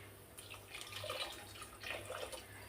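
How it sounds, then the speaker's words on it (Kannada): Water poured into rice in a pot while making soybean pulao, a faint, close splashing trickle in a few uneven bursts with no talk. "ನೀರು ಹಾಕ್ತೀನಿ ರೀ ನಾನು."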